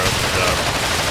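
A brief, dense burst of battlefield gunfire in the real-time strategy game WARNO crackles loudly and continuously.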